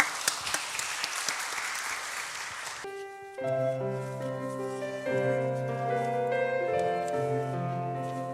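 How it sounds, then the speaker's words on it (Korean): Church congregation claps during a Sunday worship service for about three seconds, then the clapping fades as sustained organ or keyboard chords take over and ring steadily. "은혜 주신 하나님께 영광의 박수 돌리겠습니다"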